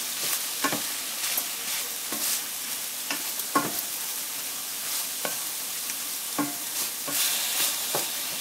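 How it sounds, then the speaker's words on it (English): Onion and frozen spinach are stirred together in a pan to thaw: a steady soft hiss runs throughout, with irregular scraping strokes of the utensil repeating close by. "I'm going to stir that all up and get those nicely thawed."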